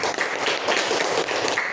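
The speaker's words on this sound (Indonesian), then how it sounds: "tepuk tangan untuk kelompok sate" Students in a classroom applaud a group after its presentation, a dense, even burst of clapping hands nearby, continuing without pause.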